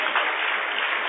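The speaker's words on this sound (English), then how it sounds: "Clap your hands for her." A church congregation in Mampong, Ghana claps hands together, a dense steady burst of clapping that lasts about a second.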